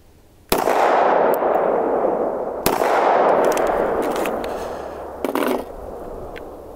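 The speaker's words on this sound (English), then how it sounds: "might as well just shoot it." An FN 510 pistol fires two 10mm rounds outdoors, two seconds apart. Each loud, sharp crack is followed by a long fading echo, with a faint metallic clink after the second.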